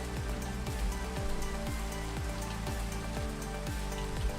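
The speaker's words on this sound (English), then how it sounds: "The rain." Rain falls steadily, a continuous soft patter and hiss running evenly from start to finish with no talk over it.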